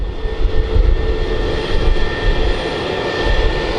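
Twin CFM LEAP turbofans on an Airbus A320neo taxiing, a steady loud broadband roar with a faint high whine, continuous and close throughout.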